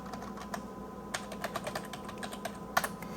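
Rapid clicking of computer keyboard keys, typed in short bursts with brief pauses while logging in to a Dell PowerEdge 1800 server, close and fairly quiet over a low background hum.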